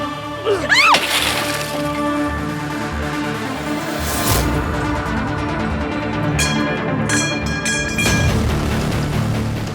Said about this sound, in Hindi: अपनी गाड़ी का शीशा कौन तोड़ता है?